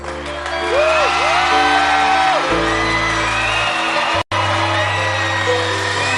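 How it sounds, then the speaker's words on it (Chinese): A live concert crowd cheers, whoops and applauds loudly in a large venue, a dense roar of voices and clapping with musical tones ringing through it. "现场的朋友们，再来一次疯狂热情掌声鼓励"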